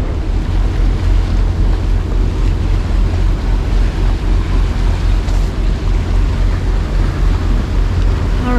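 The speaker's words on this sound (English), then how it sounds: "But this is a little fishing boat coming up" Steady boat engine rumble as a small fishing boat passes, mixed with wind buffeting the microphone and splashing water, loud and continuous throughout.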